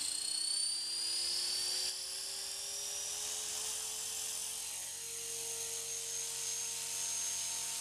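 A Blade 450 3D RC helicopter spins up for its first hover, its high rotor whine and motor tone rising steadily in pitch and then holding a loud, even buzz close by, with no talking.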